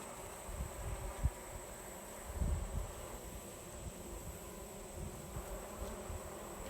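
A steady, low buzzing hum of many honey bees close by at an open Layens hive during inspection, with faint rustles and bumps mixed in, constant throughout.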